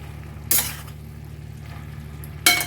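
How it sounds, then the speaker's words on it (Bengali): Vegetables for pui shak chorchori, a Malabar spinach dish, are stirred in a pan after the lid comes off, giving two short scraping, sizzling bursts about two seconds apart against a quiet background. "ঢাকা খুলে একবার সবজিগুলো নাড়িয়ে দেব"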